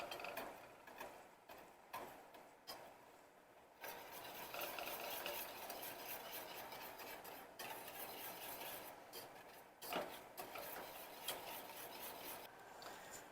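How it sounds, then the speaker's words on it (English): A spoon scrapes and rubs around a pot of melting butter, giving a continuous gritty stirring sound with irregular louder strokes, close and fairly quiet, with no talk. "we're going to stir this because we don't want it to burn"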